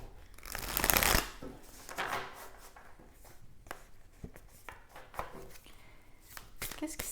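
Tarot cards being shuffled and drawn during a reading, a short loud riffle at the start followed by softer scattered card slaps and slides, close and fairly quiet.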